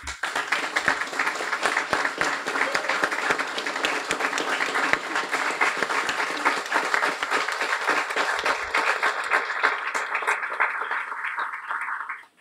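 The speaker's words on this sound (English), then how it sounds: "please stand so we can give you a well-deserved round of applause" Sustained audience applause at a Guiding Eyes guide dog graduation honoring puppy raisers and volunteers, a steady dense roar of many hands clapping for about twelve seconds before tapering off.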